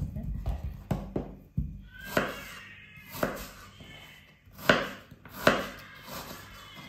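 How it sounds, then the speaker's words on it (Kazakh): Knife chopping peeled apples into large chunks on a board, with several distinct cuts spread unevenly among softer handling sounds, close and moderately loud. "Енді осыны қазір түрпіштілеп үлкенірек қылып тураймыз"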